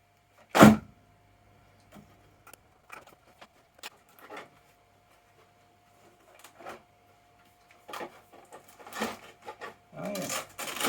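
The suspension of an Arrma Mojave 6s RC car is worked by hand, giving sparse, quiet plastic clicks and creaks in short scattered bursts over a faint steady hum.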